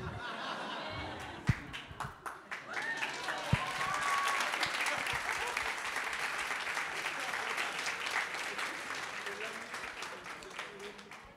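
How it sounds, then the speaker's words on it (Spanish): Audience at an animation industry conference talk breaks into sustained applause, dense steady clapping from a sizable crowd filling the room, rising after a few scattered early claps and holding strong to the end. "Me encanta que lo que aplaudáis más sea lo que no es mío."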